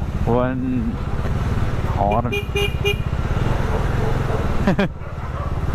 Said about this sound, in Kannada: ಹಾರ್ನ್ ನೋಡಿದ್ರೆ ಹೆಂಗಿತ್ತು, ಹಿಂಗೆ ಇರೋದು ಹಾರನ್